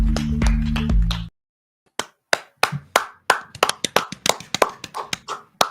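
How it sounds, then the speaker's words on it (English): Hands clap in quick bursts after a short stretch of music cuts to silence, a close series of sharp, uneven claps speeding into a rapid run with brief gaps. "That was a rapid clap."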